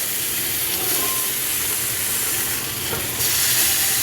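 Pork chops sizzle and spit in a hot frying pan, a steady loud hiss with faint scraping as the meat is turned, and the frying flares up a little louder near the end.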